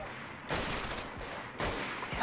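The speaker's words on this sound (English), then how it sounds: "Dealing with some machine guns." Machine gun fire in Medal of Honor: Vanguard, a World War II shooter, coming as two sustained bursts of rapid shots separated by a short lull.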